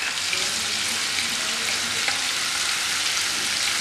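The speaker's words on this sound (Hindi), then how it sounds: "ऑयल थोड़ा गर्म हो गया है, इसमें मैं ये गार्लिक डालूंगी और साथ में अदरक भी डाल देंगे और थोड़ा सा इसको भूनेंगे।" Garlic and ginger frying in hot oil for hot garlic noodles in Szechuan sauce, a steady, close, crackling sizzle that holds evenly without speech.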